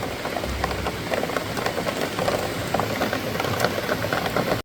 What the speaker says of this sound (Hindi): इट्स रेनिंग हेवीली एंड मैं बिल्कुल विंडो साइड बैठी थी